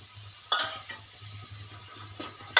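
Onions with salt and turmeric sauté with a low, constant sizzle in a pan, broken by a few sharp scrapes of a spoon stirring them, close and without talk.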